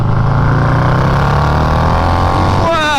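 A turbocharged Harley-Davidson motorcycle engine pulls hard at roughly three-quarter throttle, a loud, continuous close-up roar whose pitch climbs steadily, ending with a rising turbo whine.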